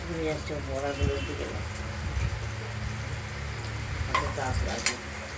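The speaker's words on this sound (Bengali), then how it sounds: "আমরা যেমন সাদা তেলে ভেজে নিচ্ছি, আপনারা প্রয়োজনে সরষের তেলেও ভেজে নিতে পারেন।" Chana dal fritters bubble and sizzle in white oil, with a steady frying crackle and a few clinks of stirring as a person talks nearby.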